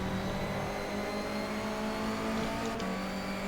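A front-wheel-drive Honda Civic BTCC race car at Silverstone in rFactor 2 holds a loud, steady engine drone close up, revving and pulling hard with a brief shift or dip near the end, no talking.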